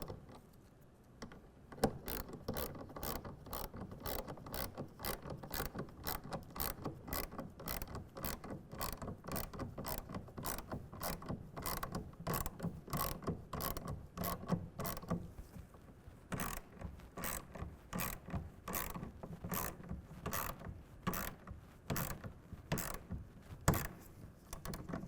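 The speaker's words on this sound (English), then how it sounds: "we're going to tighten it down to 10 foot-pounds" A hand ratchet clicks steadily in quick, even strokes while tightening a clamp bolt on a RealTruck UnderCover Flex hard folding tonneau cover, close and clear with brief pauses between bursts and no talking.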